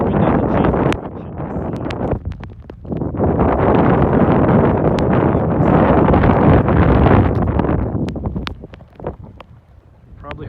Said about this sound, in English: The wind doesn't change direction.